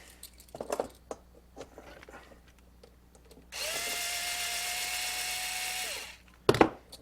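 A power drill removes four bolts while an extension cord is being made, whirring steadily for about two and a half seconds in the middle, close and loud, with faint handling clicks around it.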